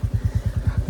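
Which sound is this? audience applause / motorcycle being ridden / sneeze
motorcycle being ridden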